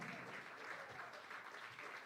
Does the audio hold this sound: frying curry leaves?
no